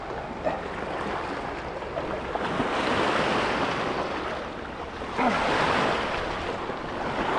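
Choppy ocean waves slosh and break steadily around a jet ski, a broad continuous wash with wind buffeting the microphone and two louder surges of surf.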